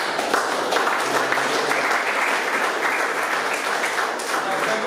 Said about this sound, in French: je vais vous demander d'applaudir les membres de la commission